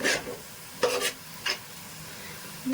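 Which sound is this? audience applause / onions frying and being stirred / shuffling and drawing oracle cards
onions frying and being stirred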